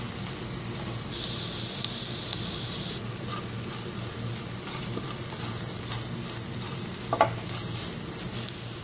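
Onions sizzle steadily in a pan as turmeric, pepper powder and garam masala are stirred in for chicken vada, a constant close frying hiss with soft scraping strokes and one brief clatter near the end, no voices.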